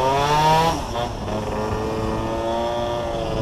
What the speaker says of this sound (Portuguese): Tá na subida, tá acelerando, tá subindo